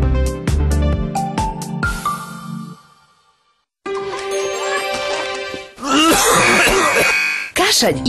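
Loud, close throat clearing and harsh coughing in a cough-medicine advert follow a short run of bright musical tones and a brief pause.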